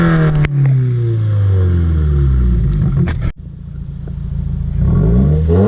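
Subaru WRX with a Cobb Accessport and intake (stage 1 plus) driving, engine revving up through gears with rising then falling pitch, a shift gap midway, then pulling again; loud and close, no talk.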